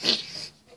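A short, close breathy sniff of air through the nose, followed by a faint second snuffle.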